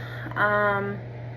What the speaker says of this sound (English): I apologize for the noise of my fan.